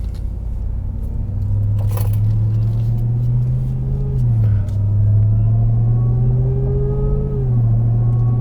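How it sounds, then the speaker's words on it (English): A Ram TRX truck fitted with an AFE Super Stock intake accelerates under moderate throttle. Its deep, steady engine drone climbs in pitch and drops briefly at each gear shift, heard from inside the cab. "moderate throttle does sound slightly whinier or louder"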